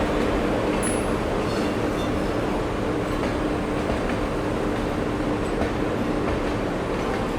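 An Intercity Express train hauled by a WAP-7 electric locomotive at Bilaspur, heard as a loud, steady roar of rolling wagons and rail noise throughout, close by with no break.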